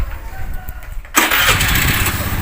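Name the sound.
motorcycle engine starting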